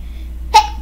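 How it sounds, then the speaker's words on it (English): A single short sneeze bursts out near the mic, loud and brief, against a quiet background hum. "Oh, wow, I'm sneezing a lot today."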